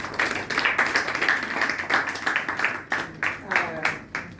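An audience at a Sierra Leone research workshop applauds a newly appointed parliamentary director general, a sustained patter of clapping mixed with voices talking over it.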